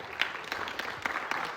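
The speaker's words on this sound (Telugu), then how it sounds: "చలో మీకే మీరు క్లాప్స్ ఇచ్చేసి" Participants in a yoga class clap for themselves, a brief burst of scattered, fairly faint hand claps.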